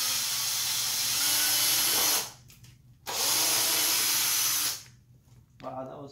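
A power drill whines in two sustained bursts with a short pause between, close and loud, drilling a hole in a Nissan 350Z, followed by faint clatter.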